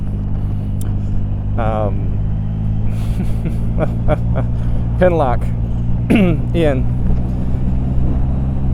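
Steady, loud wind rumble buffets a helmet microphone while riding a Zero electric motorcycle, continuous throughout, with a rider talking over it.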